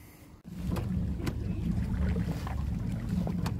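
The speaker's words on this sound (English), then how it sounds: "it winds up kind of making a cool engine noise" A small motor on a plywood mini boat drones steadily with a low rumbling, churning roar from a cavitating propeller after a brief quieter start, close and continuous, with wind buffeting the microphone.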